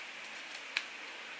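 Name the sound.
scissors cutting lace of a full lace wig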